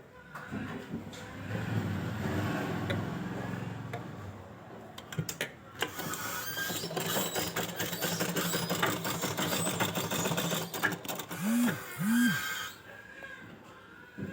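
A sewing machine stitches a fancy gown for a two-year-old girl, its close, steady mechanical whirr running almost continuously with a few brief stops and restarts.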